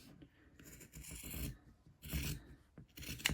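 Scissors trim thread ends on a fabric bowl cosy, with soft snips and rustling cloth in a few quiet bursts, close and alone.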